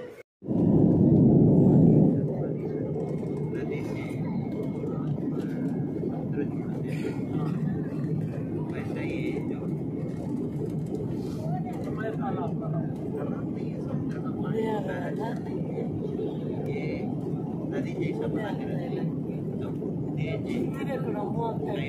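An airplane passes overhead, heard on the ground as a steady, broad engine rumble that swells loud for the first couple of seconds and then holds as a continuous drone. People talk over it.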